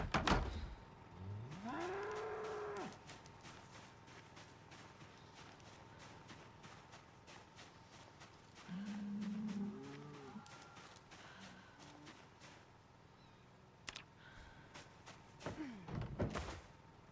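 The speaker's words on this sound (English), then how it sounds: "Screams of my cows." Cows in the survival game Project Zomboid let out two long, loud moos, one early and one midway, over a rhythmic tapping background, with a door-like slam near the end.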